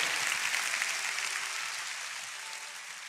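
Applause from a church congregation, a dense wash of many hands clapping steadily and slowly fading over a few seconds, with no voices above it.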